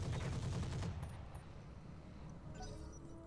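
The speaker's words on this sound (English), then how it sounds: "Gonna go for a headshot with the machine guns." Rapid machine gun fire in the Roguetech mech combat video game, a dense, fast burst of shots filling the first second, followed by lower rumbling and faint electronic interface tones, with no talk.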